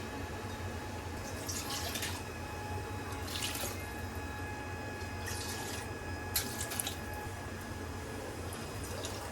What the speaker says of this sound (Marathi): आता याच्यामध्ये पाणी ओतते.